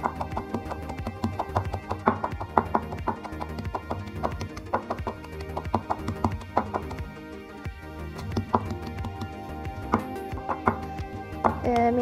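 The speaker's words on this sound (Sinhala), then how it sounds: "කුරුඳු පොත්තත් කොටා ගන්නවා." Cinnamon bark and spices pounded in a mortar for a Sri Lankan dish, a steady run of dull, thudding strikes repeated in an uneven rhythm, close and fairly loud.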